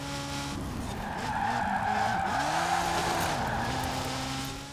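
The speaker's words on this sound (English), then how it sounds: "I slid and I banged into the wall" A race car in a racing video game sliding with a long tire squeal over a sustained engine drone, pitch bending as the car loses grip, with no distinct impact heard.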